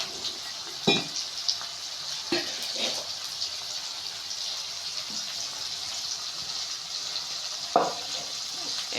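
Onions and tomatoes sauté in a pan for a cabbage poriyal, a soft steady sizzle with a few sharper stirring clatters and scrapes now and then.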